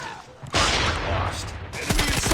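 Gunfire in the mobile shooter game Call of Duty Mobile, bursts of rapid close shots with loud noisy blasts, rising again near the end.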